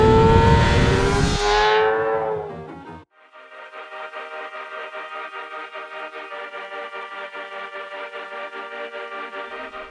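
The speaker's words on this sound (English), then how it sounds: "your inner child will be laughing louder than this beautiful inline four howl at full chat" The inline-four engine of a 2024 Kawasaki ZX6R screams at high revs, loud and close, then drops sharply and settles into a steady, buzzing rhythmic idle.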